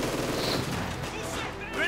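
MP40 submachine guns rattle in rapid bursts amid other battlefield gunfire in the Company of Heroes 2 strategy game, with a commentator talking over the shooting.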